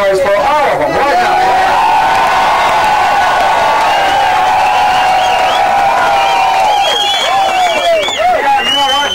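A large crowd at a motocross race roars, cheers and claps continuously, loud and sustained, with whoops and shouts rising above the din.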